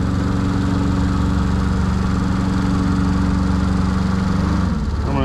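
A CMC 72HD compact tracked spider lift drones with a steady, loud engine and hydraulic hum while its boom retracts, and the pitch shifts near the end as the movement stops.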